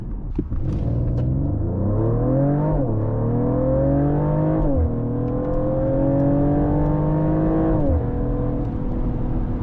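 Engine of a 2025 Mercedes-AMG GLE 53 Coupe accelerating hard from inside the cabin, a loud steady drone climbing in pitch through several gear shifts with brief dips at each change, no talking.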